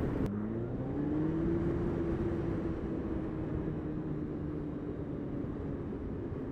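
A 2017 Kawasaki ZZR1400 motorcycle accelerating with traction control on full, its engine note rising and then holding under a constant rush of wind.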